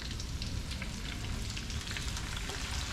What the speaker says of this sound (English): I'm going to fry this here.